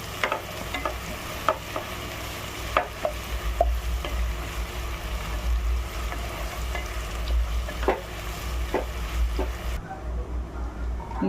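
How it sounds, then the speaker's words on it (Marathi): Onions frying in a pan until red for a dry clam dish, a steady close sizzle with periodic sharp spatula scrapes and taps against the pan over a low rumble. "नेहमीप्रमाणे कांदा आपला व्यवस्थित लाल परतून घ्यायचा"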